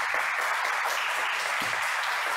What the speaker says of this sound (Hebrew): אבל מחאו כפיים